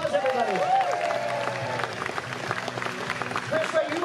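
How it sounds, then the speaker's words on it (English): An audience at a fair's magic and escape show applauds a female volunteer, with a steady bed of clapping mixed with voices and some whoops rising above it. "Let's give her one more big round of applause"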